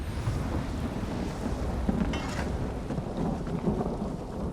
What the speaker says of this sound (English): I can hear the thunder, I don't see the lightning